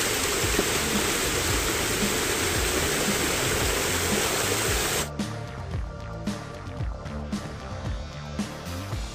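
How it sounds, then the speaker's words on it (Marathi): Water rushes steadily down stone steps on the Korigad fort trail, a loud, dense hiss for about five seconds before it cuts to a quieter, patchier wash of flowing water. "पायऱ्यांवरून वाहत येत असलेले पाणी"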